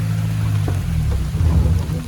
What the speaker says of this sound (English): The rain became extremely intense